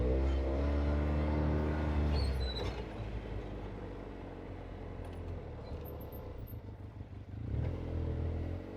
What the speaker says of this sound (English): we're out taking a ride in the UTV